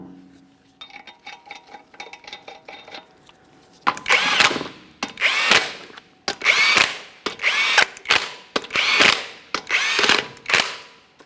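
A power tool runs down 22mm wheel lug nuts on a 2017–2024 GMC Acadia in several loud, close bursts, each a whirring spin ending in a rattling stop. Quieter clicks and mechanical noise come before the bursts.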